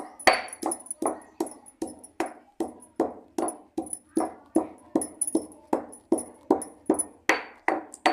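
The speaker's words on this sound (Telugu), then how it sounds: "ఇలా దంచిన దాంట్లోనే వేయించిన నువ్వులు వేసుకొని" Roasted sesame seeds are pounded by hand in a stone mortar, a steady run of sharp thuds with ringing clinks, roughly two strikes per second, close and alone.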